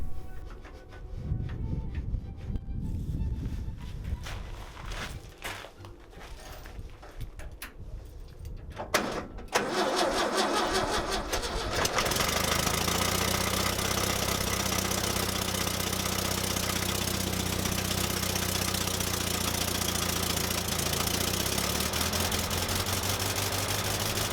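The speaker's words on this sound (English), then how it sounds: "This is the very first start of this engine in many years." Clunks and rattling give way to a 1950s Snow-Trac snowcat engine cranking and catching after years unused, then a loud, steady mechanical idle with a rhythmic knock fills the rest.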